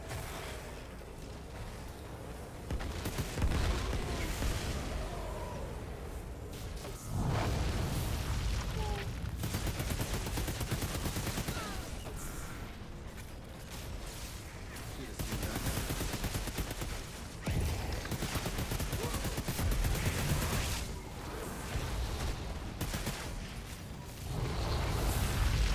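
The Metal Barrage ability firing in the shooter Outriders: a long, loud, continuous barrage of rapid gunfire and blasts, surging in waves with only brief dips, while occasional game voices sit beneath it.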